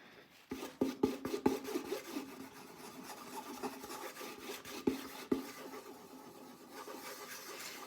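A rubbing pad loaded with spirit and varnish works over a violin's surface during French polishing, giving a soft, close rubbing swish punctuated by irregular faint taps and knocks, with no talk.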